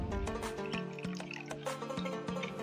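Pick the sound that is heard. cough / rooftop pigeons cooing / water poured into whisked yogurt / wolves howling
water poured into whisked yogurt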